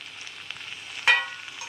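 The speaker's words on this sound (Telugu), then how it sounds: "మనం దీంతో పాటే వేసేసుకోవచ్చు అనమాట తాలింపు గింజల్ని ఆవాలు జీలకర్ర" Mustard and cumin seeds temper in oil alongside frying okra, a low, faint sizzle broken by one sharp crackling pop midway; no speech.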